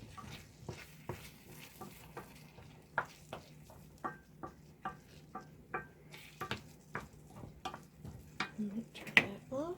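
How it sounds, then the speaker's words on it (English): A spoon stirring grated Longhorn cheese into beef empanada filling in a pan: steady rhythmic scrapes and light clicks against the pan, close and fairly quiet, with a soft sizzle beneath. "I'm going to stir that in."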